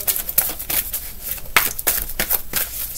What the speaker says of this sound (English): Let me shuffle, break these cards up.